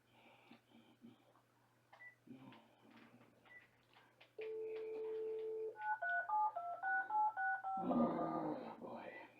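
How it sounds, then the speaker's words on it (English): A phone dials out to the VA hospital, a run of short keypad beeps followed by a held tone and a quick stepping sequence of electronic tones, fairly faint with a low hum throughout. "My phone will not call the VA hospital."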